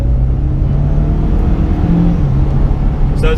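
A 2013 Mitsubishi Lancer Evolution X MR pulls in third gear from low revs, heard from inside as a loud, steady low engine drone with rising tones, continuous throughout.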